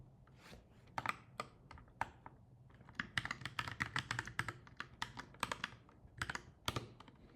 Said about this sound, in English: we type in the function again.